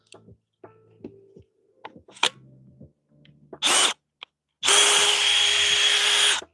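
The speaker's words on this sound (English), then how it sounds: "Drill runs." A power drill recovered from a flooded garage whirs in two bursts, a short one and then a longer steady run, loud and close, after some clattering handling noises.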